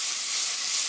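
Beef sizzles as it is stir-fried in a pan for a beef and zucchini stew, a steady, loud, close hiss with no pauses.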